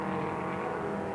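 A 1971 Ford Escort race car roars at close range, its engine a steady, loud, dense drone with no let-up through the short stretch, the sound of a racing car at full speed on the circuit.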